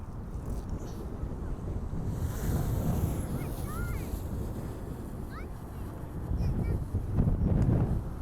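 Blustery wind buffets the microphone in a wide open park in Harold Wood, London, where a small drone takes off, a steady roaring rush that swells louder near the end, with faint voices underneath.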